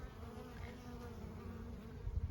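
A steady, low buzzing drone of many honeybees covering hive frames fills the whole stretch, a dense insect hum with no talking, growing slightly louder at the end.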